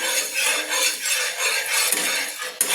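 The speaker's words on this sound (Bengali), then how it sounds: "একটু খুন্তি দিয়ে আমি নেড়ে নিলাম" A metal spatula scrapes and stirs in a wok of heating mustard oil for a shrimp and spinach dish, giving a continuous close hiss with soft rhythmic scrapes and a sharp clink near the end.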